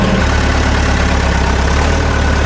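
An old forklift engine headed for the scrapyard runs steadily and loudly with a deep, rough idle-like drone. It is close and continuous, with no speech.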